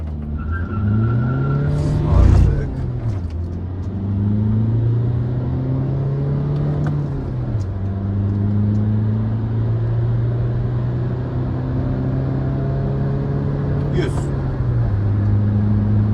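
A Fiat Doblo with the 1.6 Multijet 105 hp diesel accelerates hard from standstill to 100 km/h. The engine drone climbs steadily through several gears, with short dips at each shift and a brief tyre chirp at launch, loud and continuous from inside the cabin.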